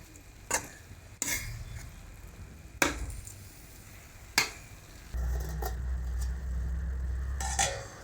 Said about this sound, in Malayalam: നല്ലതുപോലെ ഇളക്കിയിട്ട് ഒന്ന് അടച്ചു വെച്ച് വേവിക്കാം